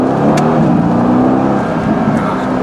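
Mercedes-AMG GT S engine idling or moving gently in first gear with its exhaust valves closed, a steady, subdued low rumble that stays even and close throughout.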